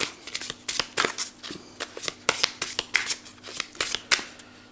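Tarot cards being shuffled and handled to draw three minor arcana: a run of crisp, close riffling and snapping card sounds in quick irregular bursts, steady over the whole stretch with no talking.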